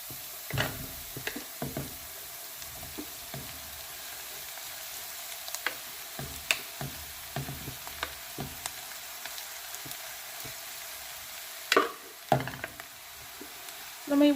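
Shredded fish pieces fry with onions in a pan, a soft continuous sizzle broken by scattered knocks and scrapes of stirring, a few louder clatters near the end.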